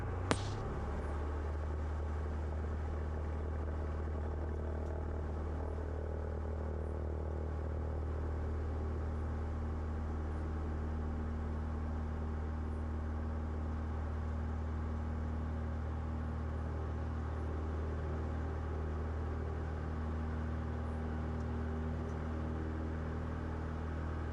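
A vintage Cessna taking off from runway 31 gives a steady loud propeller-engine roar from inside the cockpit, holding an even drone after a brief click at the start, with no talk over it.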